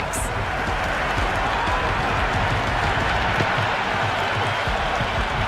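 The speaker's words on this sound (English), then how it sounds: "The crowd are loving it." Stadium crowd in the cricket video game Cricket 26 roars and cheers steadily after a big six, a dense, loud continuous wash of noise with claps mixed in throughout.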